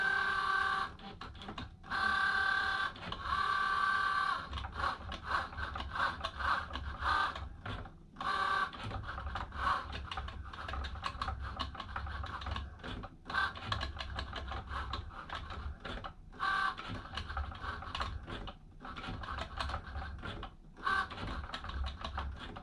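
A Cricut Joy cutting machine runs a cut, giving a steady mechanical whir broken by rapid clicking and brief pauses, close and continuous with no talking.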